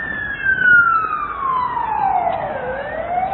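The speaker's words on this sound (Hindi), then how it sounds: "इस तरीके से सायरन की आवाज, यहाँ चलती हुई गाड़ियां और साथ ही एम्बुलेंस की आवाजाही भी बढ़ी हुई नजर आ रही है" An emergency vehicle siren sweeps loudly through city traffic, one long wailing tone falling in pitch and then climbing again, with faint road noise beneath.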